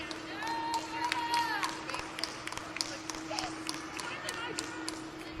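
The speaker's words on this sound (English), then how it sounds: "we want to give a big round of applause to Big Bubba's Trailers" A crowd at a county fair bucket calf show gives scattered applause and a few cheers for the sponsors, the clapping fairly distant over a steady hum, with whistles and voices mixed in.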